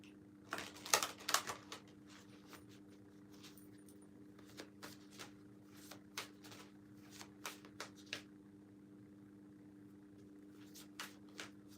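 Tarot reading cards being shuffled, a quick burst of riffling flutters followed by scattered soft taps and slides of cards at irregular intervals, close and quiet over a low steady hum.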